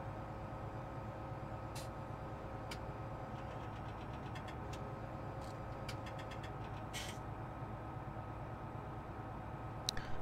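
A truck engine idles steadily in Farming Simulator 2017, a constant low mid-pitched rumble that stays even throughout, with a few faint ticks and clicks scattered over it.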